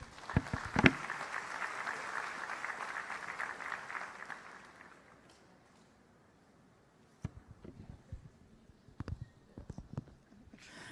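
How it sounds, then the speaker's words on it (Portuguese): A church congregation claps in applause to welcome a pastor, moderately loud for about four seconds and then fading to near silence, with a few scattered knocks and faint sounds afterward. "Vamos recebê-lo aqui com aplauso."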